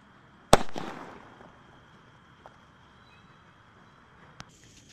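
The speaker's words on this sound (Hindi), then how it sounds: "अब हमारे पास ये एवेंजर स्पेशल वाला स्काई शॉट को जला के देखते हैं कैसा चलता है।" An Avenger special sky shot Diwali firework goes off with one sharp loud bang, then a fading crackling hiss, and one faint small pop follows a few seconds later outdoors.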